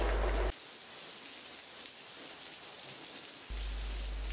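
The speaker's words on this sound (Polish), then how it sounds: "Nazajutrz od rana deszcz niemiłosiernie leje." Heavy rain pours down during the rainy season in Guinea, a steady soft hiss of drops on surfaces, faint and continuous with no voices.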